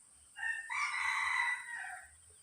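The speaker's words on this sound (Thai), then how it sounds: "เราดูว่าขัน หรือเปล่า ต้องขันเงียบไปเมื่อกี้เนี่ย" A rooster crows once, close and loud, in a single long drawn-out call that rises and then trails off. A low, faint rumbling sits underneath.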